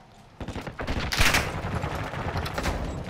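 Gunfire from a multiplayer shooter video game: a dense, rapid fusillade of shots and bursts that runs continuously for about three seconds, loud and busy.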